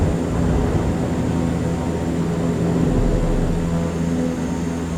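Turboprop engines of a CL-415 water bomber drone under power in Microsoft Flight Simulator 2024, a loud, steady, droning hum with a persistent tonal whine and no break or talk.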